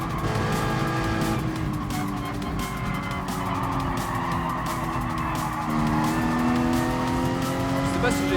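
Race car engines roar steadily with rising and falling pitch through Gran Turismo Sport gameplay, joined by squealing tires skidding through corners, loud and continuous throughout.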